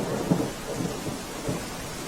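Heavy rain pours steadily in Jamnagar district, a dense continuous hiss with low rumbles of thunder rolling underneath, close and loud throughout with no voices.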